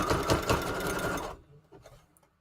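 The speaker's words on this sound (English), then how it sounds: "I have not had this sewing machine have any problems sewing through any material I've gone through yet" Sewing machine stitches through junk journal paper pages, a fast close mechanical whirring run for over a second that stops abruptly, followed by a few faint handling clicks.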